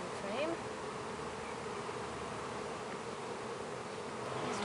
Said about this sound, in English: So, I'm going to shake off the bees.